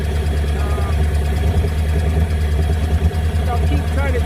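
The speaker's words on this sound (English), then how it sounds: "I'll keep trying to tune that idle down a little and see if I can get it to idle nice and soft." An old scrapyard car engine idles on its first start in 35 years, a steady loud low rumble with an uneven, slightly lumpy beat that runs throughout.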